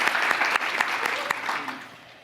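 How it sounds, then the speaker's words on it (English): An audience at a women's leadership breakfast panel claps in a brief burst that fades out over about two seconds, with crisp individual hand claps standing out near the start. "I gotta give you a round of applause for that."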